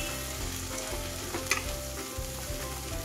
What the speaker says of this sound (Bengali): মশলাগুলো আমি খুব ভালো করে ভেজে নেব যতক্ষণ না তেল আমার বেরিয়ে আসছে।